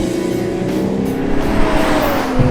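Ferrari Purosangue V12 engine revving hard under acceleration, a loud, continuous rising engine note with brief throttle blips on upshifts, close and steady with no talk.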